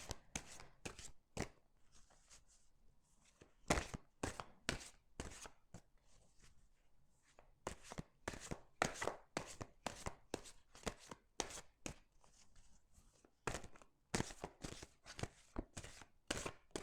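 Oracle cards are shuffled and cut by hand in repeated quick bursts of sharp, crisp riffling snaps. The bursts are separated by brief pauses and sound close and fairly loud, with no talking over them.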